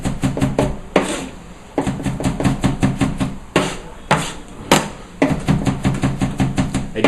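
A knife chops food finely on a cutting board in a home kitchen, with quick rhythmic knocks in bursts and short pauses between them, close and fairly loud.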